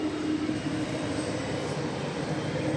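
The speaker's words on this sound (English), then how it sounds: "Runway 18 left, this is takeoff" Broad, continuous roar of an airliner's engines on takeoff from runway 18 Left at DFW airport, steady and fairly loud throughout the short stretch, with no voices.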